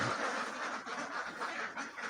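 Ducks in a farm pen quack faintly in a dense, overlapping chorus, a steady noisy flock sound with no speech.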